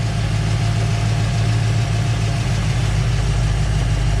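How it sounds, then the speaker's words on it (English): A 1970 Dodge Challenger R/T 440 Six Pack engine idles close by, a heavy, continuous low rumble with a steady throb and no talking. "here you can hear the engine"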